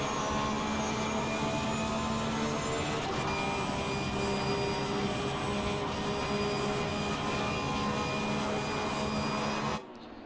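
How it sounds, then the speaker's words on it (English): A Honda GT3 race car engine in Assetto Corsa Competizione at Monza holds a loud, steady, high-revving drone with bright harmonic whine for almost ten seconds, then cuts off abruptly near the end. "the Honda engine sounds so damn good"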